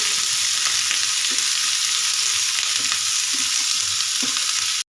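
Capsicum and green chillies sautéing in a pan for a mushroom chilli dish, a loud continuous sizzle with a few soft stirring knocks spread across and no talking.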